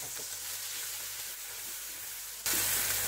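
Masala paste fries in hot oil in a kadai, giving a steady, close sizzle. It suddenly jumps into a much louder, hissing burst near the end.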